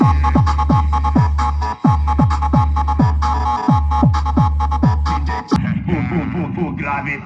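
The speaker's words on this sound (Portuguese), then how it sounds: "O grave tá bem forte" A VW Saveiro car sound system pounds out strong bass in a fast, repeating thump, then cuts to a brighter, busier section near the end. The playback is loud and close.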